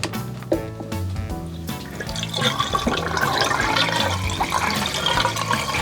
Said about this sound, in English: throwing a bunch of water down these pipes can also help clear out any buildup